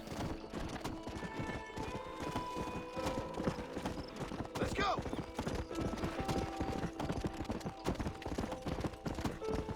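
A police horse in Red Dead Redemption trots along, its hooves clip-clopping in a quick, even rhythm throughout, with a brief whinny partway through and faint game ambience behind.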